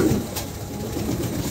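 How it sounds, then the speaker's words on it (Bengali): A domestic pigeon coos softly in a low, murmuring tone, close by over a steady background hum, with no voices present. "চমৎকার, খুবই চমৎকার একটা কবুতর"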